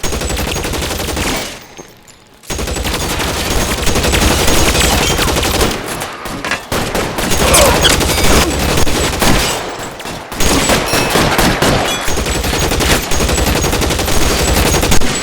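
Heavy gunfire fills a shootout in the video game L.A. Noire, with dense, continuous bursts of shots and crackling impacts that pause briefly before resuming loudly.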